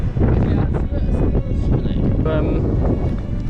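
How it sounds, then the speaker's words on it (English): Strong gusty wind on Ben Nevis in autumn buffets the microphone in a loud continuous roar, with voices faintly under it. "Oh, it is windy though."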